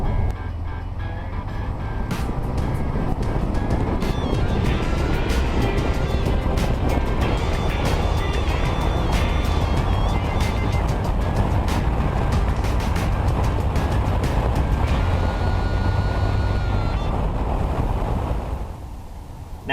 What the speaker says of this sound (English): Put it in first, give it a couple of revs, and go. Now quickly, easy, hit second, third, and we're at 60 miles an hour.